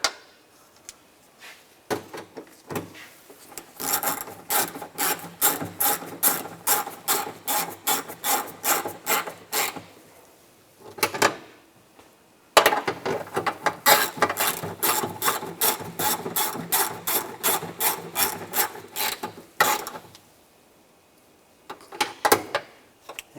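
A ratchet wrench tightens bolts on a 2010-2016 Cadillac SRX, long runs of rapid, close clicking strokes broken by short pauses, with no talking.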